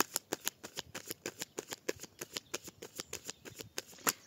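Tarot cards are shuffled in steady, close, rapid bursts, about twenty crisp riffling slaps in quick succession with no talking over them.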